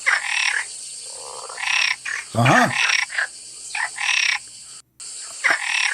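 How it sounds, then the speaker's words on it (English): A frog recording plays back with loud, close, repeated rasping croaks in uneven bursts, one deeper, throatier call standing out partway through. "I searched for a frog voice. I mean, the sound is really annoying."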